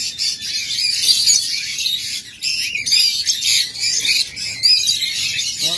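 A pair of black pied lovebirds calling, with sharp, high chattering squawks and chirps in quick irregular bursts, close and fairly loud, with no talk over them.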